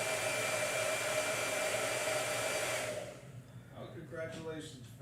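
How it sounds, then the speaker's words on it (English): Hair blow dryer drying a small gouache painting, running close and loud with a steady rushing whoosh for about three seconds, then switching off, leaving faint room sounds and a brief voice. "All right, blow dryer."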